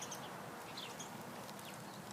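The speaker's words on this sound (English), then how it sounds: "There are a lot of birds today." Scattered bird chirps on an outdoor walk near pine trees, a few brief faint tweets at a distance over steady low ambient rumble.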